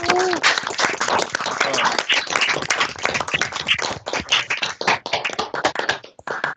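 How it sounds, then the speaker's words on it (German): Online meeting participants clap for the QualityMinds team, a dense patter of many hands sustained for several seconds and thinning toward the end, with faint voices mixed in. "wenn wir dem Team, dem Quality Minds Team, jetzt mal einen großen Applaus zukommen lassen"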